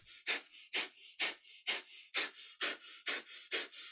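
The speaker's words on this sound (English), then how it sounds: "Another breath of fire." Breath of fire in a kundalini yoga session: a steady run of about ten quick, forceful nasal exhalations in an even rhythm, close and fairly soft, with no talking.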